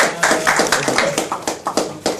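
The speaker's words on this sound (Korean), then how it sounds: "서로를 위해서 박수 한번 하는 게 좋지 않을까 싶습니다" A small group of participants in a mock national assembly debate claps for one another, a short burst of a few distinct, fairly close hand claps in an uneven rhythm, with no speech.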